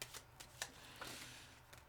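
A deck of cards is shuffled close by, giving a quiet run of quick riffling flutters and soft snaps.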